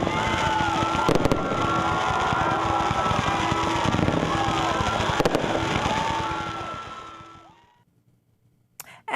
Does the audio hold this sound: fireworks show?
yes